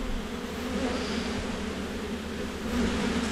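Honey bees buzz steadily around an opened hive during a beekeeper's autumn frame inspection of a small colony that had swarmed and requeened, a dense continuous drone close by with no talk.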